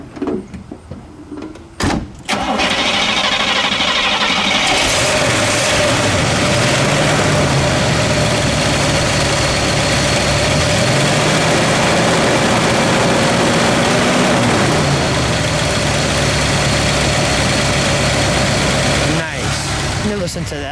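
A 1961 Oldsmobile Starfire convertible sits idling, its engine settling into a steady, low, even rumble right after a brief clunk at the start, continuing smoothly and close by.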